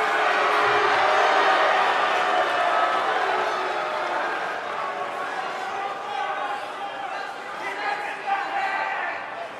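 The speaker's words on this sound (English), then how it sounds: "Look at this Dallas crowd shower these competitors with appreciation" A Dallas professional wrestling crowd roars with cheers and chatter in an arena, a loud, dense swell of many voices that eases slightly as it goes on.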